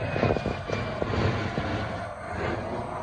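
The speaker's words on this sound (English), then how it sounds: "There's a plane going by." A plane passes overhead outdoors at a truck workshop, a steady broad engine rumble and wash holding level throughout at moderate distance, with faint clinks and background activity mixed in.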